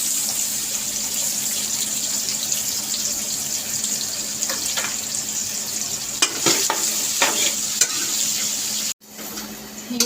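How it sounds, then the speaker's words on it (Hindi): Onions going into hot oil for aloo gobhi, a steady close sizzle of frying with occasional stirring clatter, then a brief pause in the sound near the end. "तो ये देखिए ऑयल गर्म हो गया तो मैं डालने लगी प्याज"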